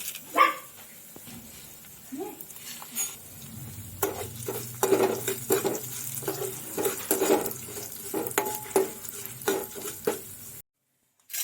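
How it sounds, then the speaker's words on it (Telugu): Tempering spices fry in a little oil in a pan while a utensil scrapes and stirs them, sizzling under irregular clattering strokes close by, with a dog barking a few times and the sound cutting out near the end. "పోపు దినుసులను యాడ్ చేసుకుని ఫ్రై అవనివ్వాలి."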